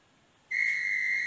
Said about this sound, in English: example of high pitch, objects having high pitch is whistle